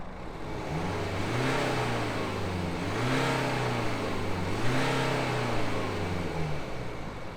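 Stock diesel exhaust of a 2015 BMW 328d xDrive, a low, droning toot that swells in three gentle revving surges, steady and fairly close, with no voices.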